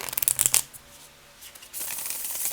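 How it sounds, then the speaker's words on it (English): A tarot card deck being riffled and bridged, with a quick fluttering burst of card flicks up close, a brief pause, then a softer sustained whir as the cards cascade together. "You can definitely riffle shuffle them, but let me just try to do this here and bridge them."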